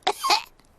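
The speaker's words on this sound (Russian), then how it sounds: "У меня кашель." A cartoon pony character in Peppa Pig gives a single short, husky cough in two quick bursts, close and clear, with no other sound around it.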